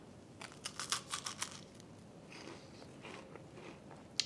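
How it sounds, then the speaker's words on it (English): Crunchy bites and chewing of a light homemade Christmas cookie, a cluster of sharp close crunches early on that give way to softer, quieter chewing. "I want you to hear the crunch."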